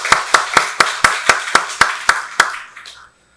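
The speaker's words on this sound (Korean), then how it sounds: "박수로 하나님께 영광 돌리겠습니다." Church congregation at a Sunday worship service applauding together in ten strong, evenly spaced unison claps that trail off into a few scattered claps and then silence.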